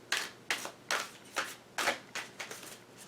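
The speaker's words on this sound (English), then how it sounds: "And same thing with just overhand shuffling." A deck of tarot cards is shuffled overhand at close range, with a series of soft rhythmic riffling bursts about every half second and no voices.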